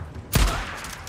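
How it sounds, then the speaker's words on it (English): A single loud shotgun blast rings out in the Days Gone video game during a raider camp fight, a sharp close boom followed by a fading rumble. "Somebody's got a shotgun."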